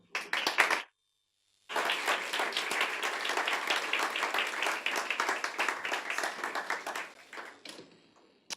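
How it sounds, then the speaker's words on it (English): Conference audience applauding a music-streaming company co-founder as he takes the stage, a short clap, a pause, then sustained applause that thins out into scattered claps near the end. "Please give a round of applause for Christoph Lange"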